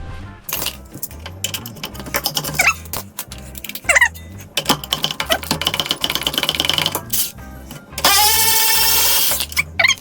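Tools clatter and ratchet while the 15 mm knuckle bolt comes out on a 2013-2018 Ford Focus ST during a lowering spring install, with sharp metallic clicks and a sustained buzzing power-tool burst near the end, close by.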